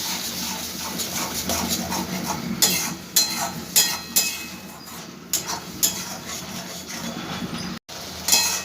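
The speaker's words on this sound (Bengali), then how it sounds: "এবার খুব ভালো করে মশলাটা আমি কষাবো" Tomato masala fries in a pan for mushroom curry while a spoon scrapes and stirs it, giving a steady sizzle broken by repeated close scraping strokes at an uneven rhythm.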